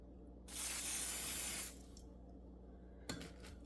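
A spray bottle mists a synthetic lacefront wig in one long, steady burst of about a second, followed by quiet and a faint short spritz near the end, close and alone without talk.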